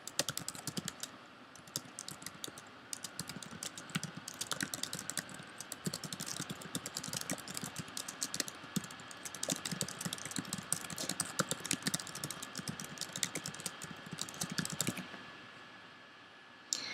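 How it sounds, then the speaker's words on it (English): Steady typing on a computer keyboard, a continuous stream of light key clicks at close range with no voices, running nearly the whole time before stopping abruptly near the end. "In the topic description is where you type out the question."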